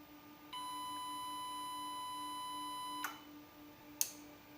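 A SAKO SUNON IV 5.6 kW hybrid inverter under repair gives a steady electronic beep for a few seconds, then cuts off, followed by a couple of sharp relay clicks as its fans start.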